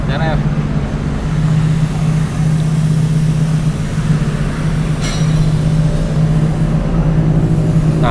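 A Honda CRF motorcycle engine on a stock base map idles steadily at a low, throbbing rumble for several seconds, loud and close, with faint voices talking underneath.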